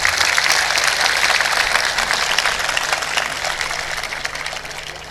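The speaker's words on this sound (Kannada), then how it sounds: "ನಮ್ಮದೊಂದು ಸಲಾಂ ನಮ್ಮದೊಂದು ಚಪ್ಪಾಳೆ ಅಂಥವ್ರಿಗೆ" An audience at a felicitation ceremony gives sustained applause for a soldier, a dense wash of many hands clapping together that slowly eases off toward the end.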